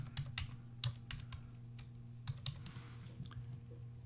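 Keys clatter on a computer keyboard in quick uneven bursts of close clicks as a search term is typed, over a steady low electrical hum.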